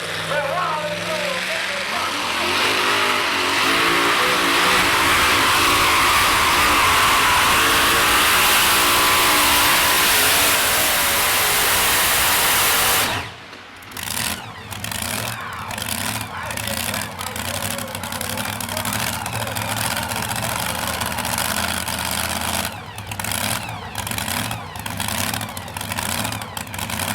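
A modified two-wheel-drive pulling truck at a 2021 Lucas Oil truck pull in La Plata roars at full power for about thirteen seconds, then drops abruptly to a lower engine note broken by short bursts of revving.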